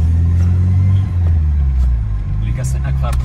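Tuned Volkswagen Golf 2 GTI G60 running at a steady low rumble, loud and close, with excited voices talking over it throughout.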